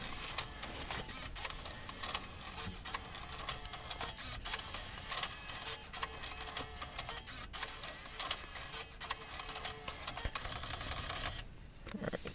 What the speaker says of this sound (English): 6-disc CD changer.